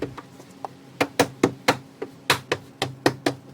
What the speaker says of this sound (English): Just line that up, and then we have our clips that we need to press in.